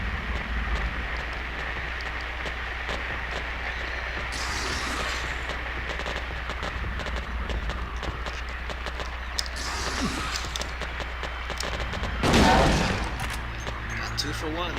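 Gunfire from shooting monsters in the Silent Hill 2 video game, sustained bursts running under steady game ambience and background noise, with a louder flurry of shots near the end while a person talks.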